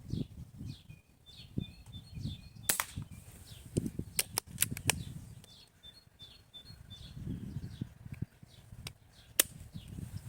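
A Blow H-01 pistol fires Shershen pellets at 7 metres outdoors: several sharp, irregularly spaced cracks, some in a quick cluster, with birds chirping in the background.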